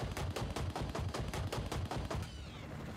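Rapid automatic gunfire in Battlefield: Bad Company, a steady burst of about a dozen loud, evenly spaced shots over a booming low rumble, then cutting off into a fading echo.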